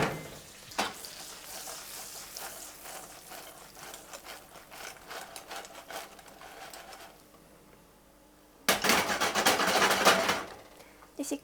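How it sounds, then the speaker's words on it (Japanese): Croutons tossed in a hot frying pan for a Caesar salad give an uneven run of clattering, rattling taps and faint sizzle, which pauses briefly and then turns into a louder, dense burst of scraping and clatter near the end. "じゃあクルトン入れていきます。 一気に炒めます。"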